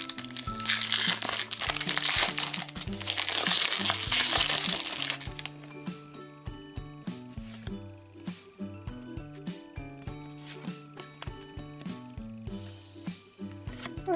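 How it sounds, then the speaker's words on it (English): Loud crinkling plastic from a pack of My Little Pony Equestria Girls collectible cards being torn open for about five seconds, then giving way to upbeat background music with no talking. "The next surprise I'm going to open are these collectible cards."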